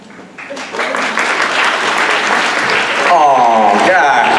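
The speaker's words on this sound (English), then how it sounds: "You're clapping so kind" Audience at a fan convention panel breaking into clapping that builds quickly and stays loud and dense, with voices talking over the applause toward the end.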